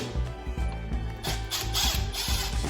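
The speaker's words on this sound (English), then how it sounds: "and then I just drill through" A power drill whirs in short bursts driving a screw through a rubber wall bumper, its motor pulsing rhythmically as it bites into material, close and fairly loud.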